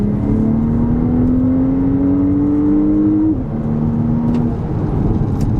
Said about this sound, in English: did a great job here on the exhaust note